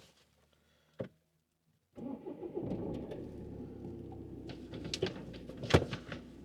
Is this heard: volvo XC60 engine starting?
yes